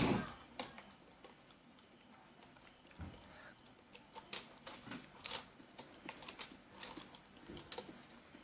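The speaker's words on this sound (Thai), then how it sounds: "เดี๋ยวขอพิมพ์อะไรนะครับ" Keys tapped on a keyboard to type a message, quiet irregular clicks that come in short bursts and grow busier toward the end, with no talking.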